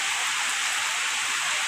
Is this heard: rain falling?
yes